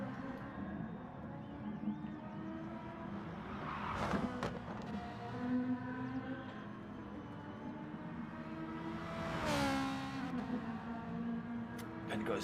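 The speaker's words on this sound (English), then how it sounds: "Oh, there's that Ferrari going round." A Ferrari race car laps the Spa or Red Bull Ring circuit in a sim-racing broadcast, its engine rising to two loud passes with revving harmonics over steady track noise while a commentator talks throughout.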